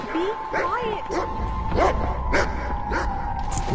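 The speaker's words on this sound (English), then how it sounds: "What's up, doggy? Be" A dog barks and yips several times in quick, uneven bursts in the video game The Cave, close and clear, with someone talking over it.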